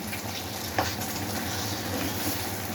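Country chicken fry sizzling steadily in a pan while being stirred, a constant hiss with one brief scrape of the spoon near the start, close and alone with no talk.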